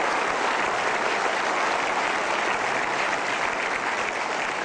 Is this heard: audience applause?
yes